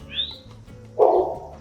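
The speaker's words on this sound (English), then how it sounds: "There's literally a bird right next to me." A bird close by outdoors gives a short high chirp, followed by a louder, fuller call a moment later, over a low background hum.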